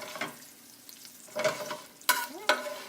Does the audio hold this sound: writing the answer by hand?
no